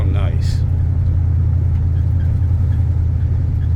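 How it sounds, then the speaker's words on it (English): Exhaust of a 1992 Mercedes W250 cruising through a neighborhood on a test drive, a steady low engine rumble heard from inside the car, continuous and unrevved, with a brief faint voice at the start. "I don't know if you're going to be able to hear this exhaust"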